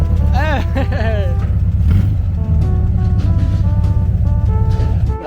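A dune buggy engine runs loud and close with a steady low rumble, and talk and whooping voices ride over it at the start.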